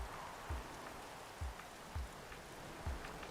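Video-game rain patters steadily on a racing track in GRID Legends, a soft, even hiss broken by a few dull low thumps at regular intervals.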